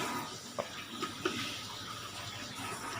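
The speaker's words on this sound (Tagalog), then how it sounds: "Dadagdagan ko ng tubig." Water pours into a blender jar to top up vegetables for a healthy green drink, a steady close hiss and splash with a few brief louder plops.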